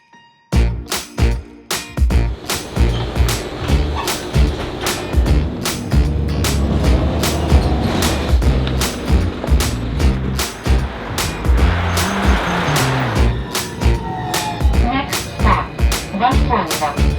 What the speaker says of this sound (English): the bus is here right now